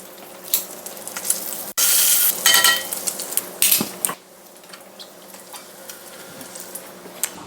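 Bacon sizzles in a pan on the stove while a utensil scrapes and clinks against it, loud stirring bursts early on easing into a softer steady fry, close by with no voices.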